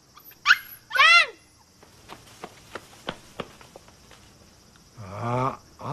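A dog whimpers and cries in two high, wavering bursts, then a run of sharp knocks or thumps, followed by another longer whining moan near the end, fairly close with quiet gaps between.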